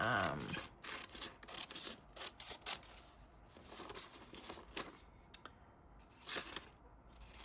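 Scissors snip through paper for a Halloween-themed journal, a series of close, crisp cutting and rustling sounds with short pauses between strokes.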